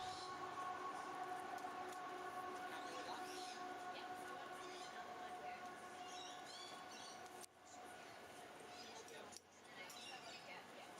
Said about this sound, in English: It was right near a train station too, so quite loud.